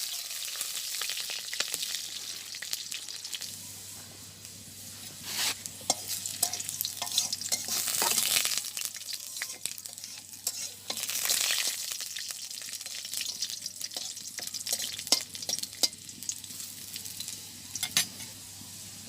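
Spices sizzling in hot oil in a home kitchen with two bay leaves and a whole garlic bulb, a steady frying hiss broken by repeated scraping stirs of a spoon against the pan, close and continuous.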